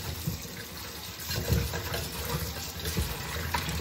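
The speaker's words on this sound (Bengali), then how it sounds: "এবার জল দিয়ে ধুয়ে নাও।" Crab being washed under running water, a steady close splash and gush of tap water with irregular sloshing as the pieces are rinsed, continuous and fairly loud.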